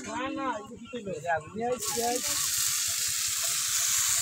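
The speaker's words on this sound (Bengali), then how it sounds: "পেঁয়াজ এবং রসুন আমরা কষা করে ভাজি করতেছে" A voice talks briefly, then onion and garlic hit the pan in a village cooking setup, and a loud, even sizzle of frying takes over and carries on alone.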